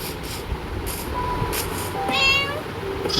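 A cat in the Minecraft video game lets out short, high meows, one rising call standing out midway over a steady low background rumble.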